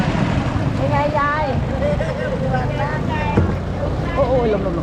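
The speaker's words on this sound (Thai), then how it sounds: "โอ้ยลม" Wind buffets during a longtail boat ride in Vang Vieng, Laos, a constant rushing roar mixed with the boat's drone beneath people chatting excitedly throughout.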